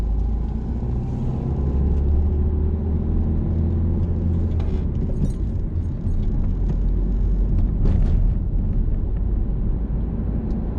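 A car's engine rumbles steadily as it pulls away and accelerates out of a roundabout during a driving lesson, with a low, continuous drone and no voices.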